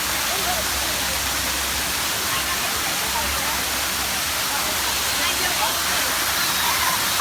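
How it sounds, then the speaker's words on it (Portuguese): A waterfall at a water park pours in a loud, unbroken rushing hiss that fills the scene from start to finish, with people's voices mixed faintly into the roar. "aqui é a cascata!"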